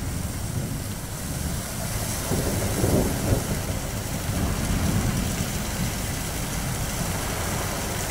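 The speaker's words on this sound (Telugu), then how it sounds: "ఉన్నట్లుండి ఈదురుగాలులతో భారీ వర్షం కురిసింది." A sudden heavy downpour whipped by gusty winds makes a steady, dense roar of rain and wind with a low rumble beneath, holding constant throughout with no voices.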